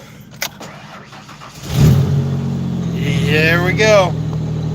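An older 5-speed car with 128,000 miles and a weak, aging battery, in neutral: a brief crank catches and the engine starts, settling into a loud, steady idle with a short rev, while someone talks briefly.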